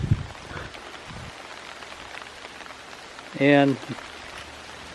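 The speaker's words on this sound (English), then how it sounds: "It's raining, which we need." Light rain falling outside on a hot day, a steady soft patter across the whole stretch, with a brief spoken word and a short voice-like tone partway through.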